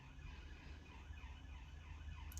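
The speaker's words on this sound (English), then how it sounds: "There's another emergency vehicle coming past" A siren wails steadily in the distance, its pitch rising and falling in repeated sweeps over low traffic rumble.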